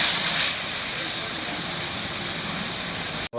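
Ginger, garlic and green chillies fry in hot oil for a vegetable dish, giving a steady, bright sizzling hiss close to the pan that runs almost unbroken and ends in a brief cut.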